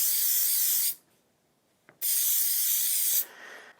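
Two long, loud hissing bursts from a can of dry lube aerosol sprayed onto a gun magazine, close up, each about a second long with a short pause and a faint click between.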